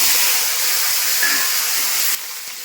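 Potatoes and eggplant hit hot oil in a frying pan already tempered with cumin seeds and fried lentil dumplings, giving a loud, steady close-up sizzle that drops in level just before the end.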